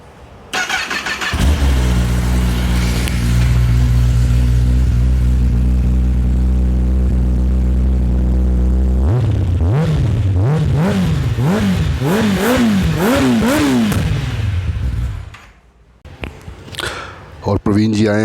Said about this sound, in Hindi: अब आपको स्टॉक एग्जॉस्ट की साउंड सुना देते हैं पहले